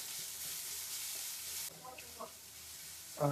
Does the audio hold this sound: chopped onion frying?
yes